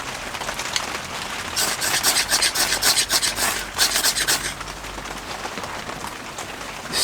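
A six-sided ferro rod is struck repeatedly, throwing sparks, with a run of harsh, bright scraping rasps clustered in the middle over steady outdoor background noise.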